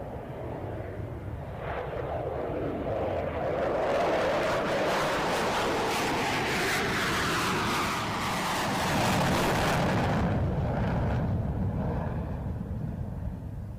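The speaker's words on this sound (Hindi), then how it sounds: "भारतीय वायुसेना के बेड़े में शामिल अलग अलग विमान वायु करतब दिखाएंगे" Indian Air Force aircraft roaring overhead during an air show, a loud sustained jet rumble that swells as the planes pass close and then fades slightly, with no talking.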